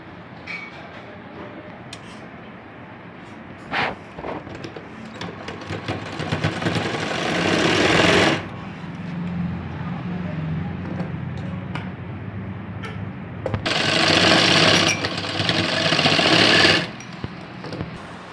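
A sewing machine runs in bursts while stitching the shoulder seams of a blouse, joining front and back panels, with two long loud runs separated by quieter handling and pauses.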